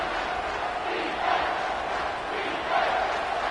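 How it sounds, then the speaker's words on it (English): Stadium crowd in a Madden football video game roars loudly and continuously, a dense wall of cheering with slight swells, no other sounds on top. "with this place rocking, the crowd forces a false start"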